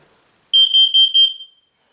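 A Kidde 10-year hard-wired smoke and carbon monoxide alarm gives four loud, shrill beeps in quick succession, close by, then falls silent.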